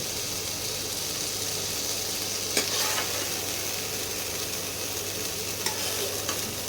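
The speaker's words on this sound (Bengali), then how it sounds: "কাঁচা গন্ধটা যাওয়া অবধি এটা ভাজতে হবে" Food sizzles steadily in a hot pan, a constant frying hiss with a faint low hum and a couple of brief clinks.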